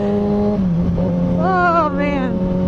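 A motorcycle downshifts, its engine pitch dropping and then climbing sharply in a quick rev, loud and close. A brief rising whine follows near the end.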